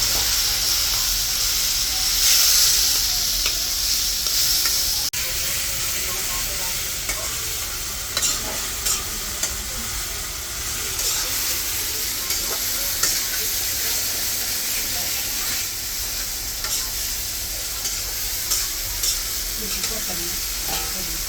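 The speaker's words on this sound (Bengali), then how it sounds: "মশলাটা কষানো কষানো দিলাম" A spice paste of turmeric and chili with a splash of water fries in oil, giving a steady close sizzle and hiss with intermittent scrapes and taps of stirring, while faint voices murmur in the background.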